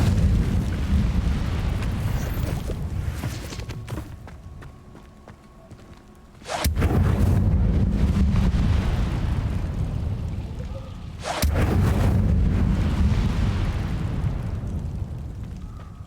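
Hogwarts Legacy's Incendio fire spell erupts in loud, rumbling bursts of flame, two strong surges around a steady roaring bed, sustained and close with no talk.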